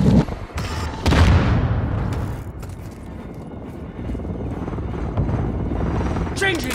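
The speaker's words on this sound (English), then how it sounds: "Friendly chopper gunner servicing target" A chopper gunner helicopter thumps overhead in Call of Duty: Modern Warfare II team deathmatch, a loud continuous rotor drone punctuated by booms and gunfire, with game announcer voices briefly over it.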